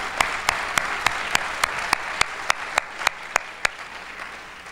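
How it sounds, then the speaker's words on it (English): An audience round of applause at a college business department event, light and fairly sparse clapping with a few sharp, distinct claps standing out in a regular pattern through the clip. "join me in a round of applause for everybody that's been out here tonight"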